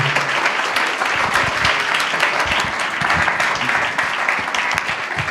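A church congregation gives loud, sustained applause, a dense crackle of many hands clapping together that holds steady throughout, with faint voices mixed in.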